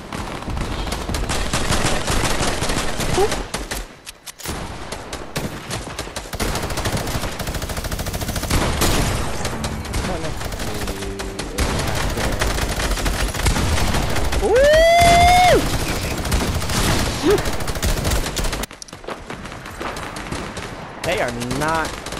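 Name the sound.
gunfire from the video game Fortnite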